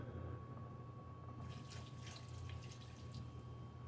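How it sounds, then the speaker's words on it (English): Water pours into a large cooking pot for beans with ham pieces, a faint splashing trickle that starts partway through over a steady low hum and a constant tone. "That's about a cup of water."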